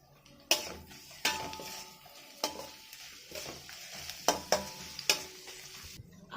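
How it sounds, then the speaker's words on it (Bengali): Garlic and ginger fry in a pan alongside cashews for rajma rice, a soft sizzle broken by sharp metallic knocks of a spatula stirring against the pan. "রসুনটা ভাজা হয়ে গেছে"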